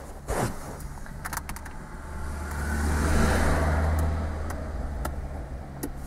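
A car pulls away during a driving lesson, its low engine rumble swelling steadily and then easing off, with a few faint clicks and rustles nearby.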